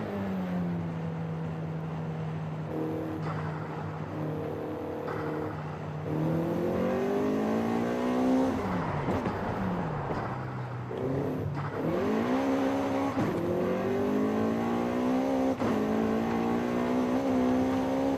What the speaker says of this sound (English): the VTEC and turbo combo sounds so good